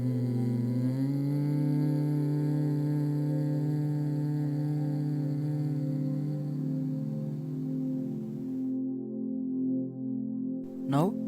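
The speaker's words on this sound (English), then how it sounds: "Exhale slowly in a controlled manner while making a deep, steady humming sound such as that of black bee." A person performs Bhramari pranayama, exhaling in a deep, steady, bee-like hum that holds an even pitch for about eight seconds before fading, followed by a short breath.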